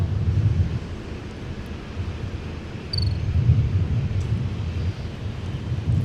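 A Sun Country airliner taxis at Minneapolis–Saint Paul airport, a steady low engine rumble heard from a distance under wind noise, swelling slightly midway.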